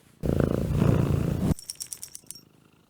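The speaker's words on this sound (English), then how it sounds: "I'm going to put the microphone up to my cat." A loud, close cat purr rumbles steadily for over a second, then gives way to quieter rhythmic breathing purrs and faint clicks.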